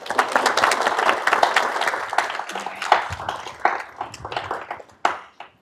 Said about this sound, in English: Let's give them both a round of applause.